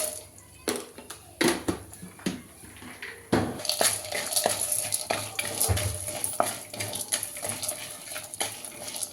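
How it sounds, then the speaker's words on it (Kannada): Urad dal and peanuts fry in a pan with a steady sizzle, broken by frequent sharp clinks and scrapes of a spoon stirring against the metal, close and fairly loud throughout. "ಇದಿಷ್ಟನ್ನು ಕೆಂಪಿಗೆ ಫ್ರೈ ಮಾಡ್ಕೋಬೇಕು"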